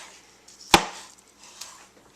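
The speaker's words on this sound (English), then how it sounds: "We're going to cut them on a bias cut." A single sharp knife chop through cooked sausage on a bias, a crisp woody thunk on a board followed by a faint second tap in a quiet room.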